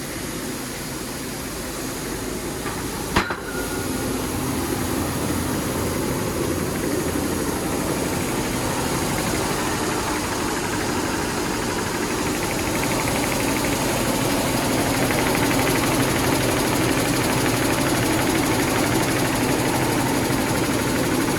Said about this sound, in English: So it drops into the auger there and goes up into the plant.